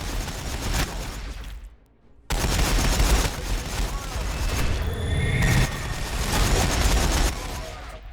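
Bursts of battlefield gunfire and booms from the strategy game Warhammer Battlesector with Ork units, loud and dense with a brief lull, while someone talks over the action.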